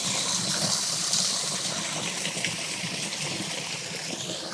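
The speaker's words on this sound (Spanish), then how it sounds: "Así que lavo la pulsera en el río." River water rushes and gushes steadily while a bracelet is washed in it, a loud, continuous flowing wash close by with slight surges, no voices.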